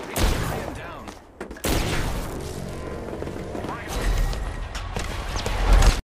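Gunfire in the battle royale shooter Apex Legends, with dense bursts of automatic shots and booming impacts running almost without a break, loud and close, with a short lull near the start.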